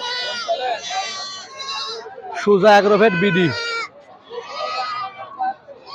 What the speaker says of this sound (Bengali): এখানে এত পরিমাণ ছাগল ওঠে যা বলার মতো না